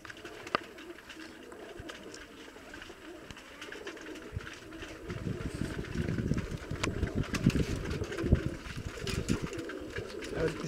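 Pigeons coo softly in a village loft with a steady low hum underneath, the cooing building and growing busier in the second half, with occasional sharp clicks or wing sounds.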